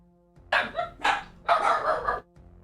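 Dogs bark indoors in three loud, close bursts, each a quick run of sharp barks separated by brief pauses, with a faint low hum between.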